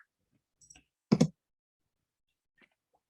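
Computer mouse clicks while drafting in Civil 3D software: a soft click, then a louder close double click, and one faint click later, with quiet gaps between.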